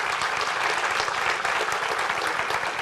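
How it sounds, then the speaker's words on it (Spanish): Steady applause from a church congregation during a Spanish-language sermon, a dense, even wash of many hands clapping for about three seconds with no talking over it. "darle un aplauso al Señor"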